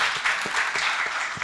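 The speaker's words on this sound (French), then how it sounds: "On l'applaudit." Brief burst of applause from an audience at a literary gathering, many hands clapping together in a dense, even patter for a second or so, with no speech over it.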